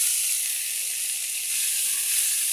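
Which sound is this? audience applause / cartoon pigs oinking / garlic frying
garlic frying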